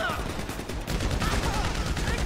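Rapid gunfire from a GTA Online heist shootout, dense bursts of shots cracking over one another for a couple of seconds, with voices underneath.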